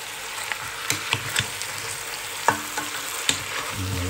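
Pork adobo sizzles in a pan as soy sauce and vinegar are poured in, a steady crackling fry with scattered sharp pops and clinks of stirring, close and fairly quiet.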